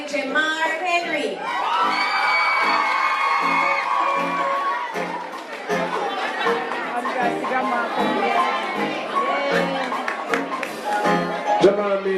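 A crowd cheers and whoops at a primary school graduation, with children shouting and loud chatter running throughout, and an announcer speaking over the noise.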